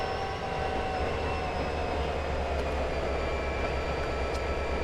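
Zephyr train in Trainz 22 rumbling out of a tunnel, a steady loud rolling rail drone with engine hum and faint high whine, continuous and close.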